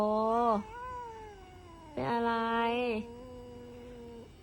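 A house cat gives two long, drawn-out whining meows with a wavering pitch, close by and fairly loud, separated by a short pause, and a person speaks briefly between them.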